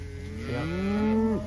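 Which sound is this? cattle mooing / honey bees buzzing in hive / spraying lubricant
cattle mooing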